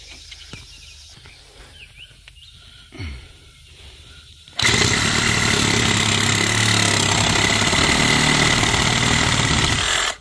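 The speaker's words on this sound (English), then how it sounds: "We're going to cut that with a Sawzall, and that will give your flow from the toilet." A Sawzall reciprocating saw cuts through a plumbing pipe with a harsh, loud, steady buzzing that starts abruptly after quieter movement and stops sharply at the end.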